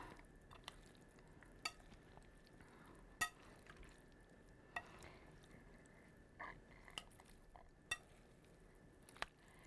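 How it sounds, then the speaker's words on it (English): Olivier salad being stirred in a bowl to coat it with lemon juice, heard as soft, quiet mixing with occasional faint clicks of a utensil against the bowl, spread over about ten seconds with no talking. "I will mix it. Make sure that the lemon juice gets all over."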